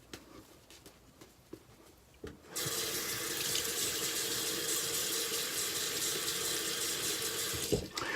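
Tap water gushes into a bathroom sink during a shave. After a few quiet seconds with small clicks, the water comes on abruptly and runs as a steady, loud hiss for about five seconds before cutting off.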